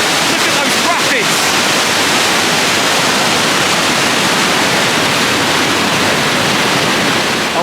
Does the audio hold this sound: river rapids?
yes